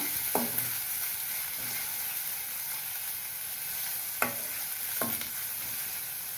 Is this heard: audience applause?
no